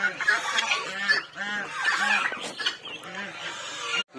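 Chicken chicks on a small farm peep and cluck in quick repeated calls, fairly close, with one of the chicks seeming sick and drowsy.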